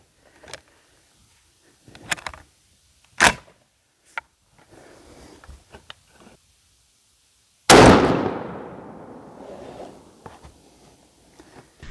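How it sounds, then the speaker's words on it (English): A brand-new ATA turkey shotgun fires a Magnum blend shell during patterning at 55 yards: one loud, sharp blast with a long rolling decay, preceded by scattered handling clicks and knocks. "55 yards, Magnum blend, brand new ATA shotgun"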